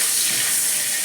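Cinnamon and bay leaves hit hot oil along with cloves and cardamom and give off a brief, even hiss of sizzling. It is close and steady, with no voices.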